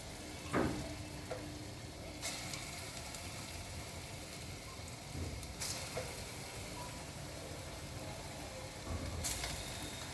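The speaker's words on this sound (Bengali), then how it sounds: "পরেরগুলো একইভাবে ভেজে নিচ্ছি।" Lentil fritters (bora) seasoned with salt, turmeric and green chilli fry in hot oil, giving a soft, steady sizzle with a few sharp pops and clicks, quiet and close, with no voices.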